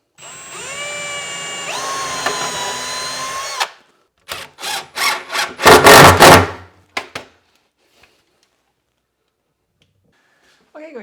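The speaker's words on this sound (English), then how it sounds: "I'm going to drill a couple of pilot holes and use some screws" A power drill boring pilot holes and driving screws into a wooden live edge desk top, a sustained whirring run followed by several short bursts of drilling, close and loud, then near silence.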